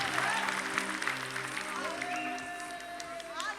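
An audience claps at a church sermon, a continuous patter of applause mixed with crowd noise, with a voice speaking over it.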